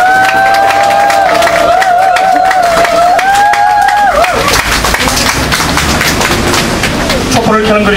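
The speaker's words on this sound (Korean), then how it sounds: "우리 한번 힘차게 박수로 격려했으면 좋겠습니다" Sustained crowd applause with scattered cheering at a candlelight church worship service, loud and continuous throughout, with voices and a brief tone near the start mixed underneath.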